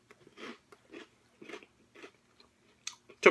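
Bites and chewing of Cap'n Crunch Caramel Popcorn Crunch cereal, four soft crunchy bursts at an even pace, then a louder, sharper crunch at the end, close up with no talking.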